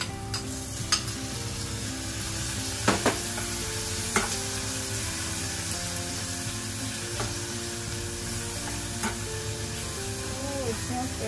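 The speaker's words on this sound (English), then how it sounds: "Let's add some tomatoes." Chopped tomatoes fry in a pan as part of a sardine dish, sizzling steadily and close for several seconds while a utensil scrapes and taps the pan now and then during stirring.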